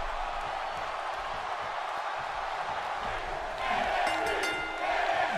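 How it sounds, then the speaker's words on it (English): A wrestling arena crowd in the WWE 2K17 video game chants NXT, a dense, steady roar of voices that swells louder toward the end, with a rhythmic chant rising over the din. "The crowd chanting NXT for this main event."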